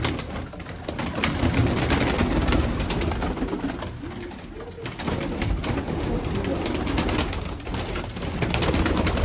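Mykolaiv pigeons coo softly and flap their wings in a loft at Tsarychanka, a dense, continuous mix of close murmuring calls and fluttering over a steady background hiss.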